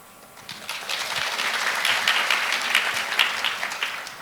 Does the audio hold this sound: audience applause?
yes